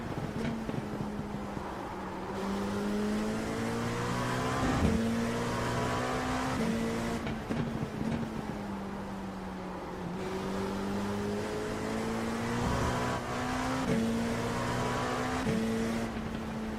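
A race car exits the pits during race preparation for the 6 Hours of the Glen at Watkins Glen. Engines rise and fall through repeated gear changes under steady loud engine noise, with no talking.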